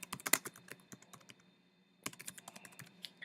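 Quick bursts of keystrokes clatter on a computer keyboard, close and fairly quiet, with a brief pause in the middle before another run of typing.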